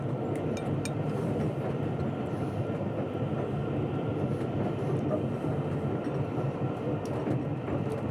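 Inside the dining carriage of a UK luxury train, a steady rumble of the running train fills the space, with faint clinks of tableware and occasional quiet voices.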